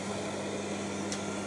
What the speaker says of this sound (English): That noise you can hear is the fan from the projector because we have the lamp on.